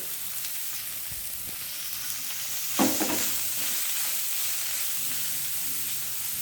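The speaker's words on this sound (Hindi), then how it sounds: "अब इसमें हम ये पत्ता गोभी डाल देंगे।" Cabbage being stir-fried with ginger and green chili in a hot pan, a steady hissing sizzle with a sharp burst of scraping and tossing partway through, then continuing sizzle with no talking.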